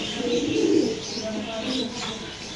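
A pigeon gives a brief, low, rolling coo close by, with some chirps and a voice in the background.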